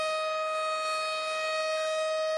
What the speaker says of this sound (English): I can't hear you over the sirens?